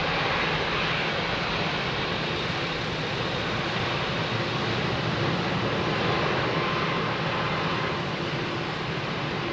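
A steady, loud, broadband jet roar from an Etihad Boeing 787 at London Heathrow fills the whole stretch without pause, heavy in the low end, with no voices over it.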